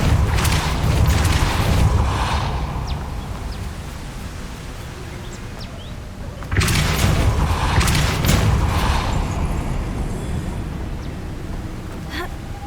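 Two powerful whooshing blasts of the Repulsor spell in Hogwarts Legacy, one at the start and another midway, each a loud burst of noisy rush that slowly fades.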